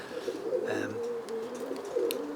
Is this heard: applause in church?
no